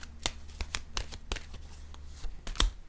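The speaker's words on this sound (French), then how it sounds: "Je vais déposer une carte pour cette zone et une carte pour ici." Tarot cards laid down on a table in a reading session, a series of soft, sharp slaps and flicks spaced irregularly, close and fairly quiet, with no talk over them.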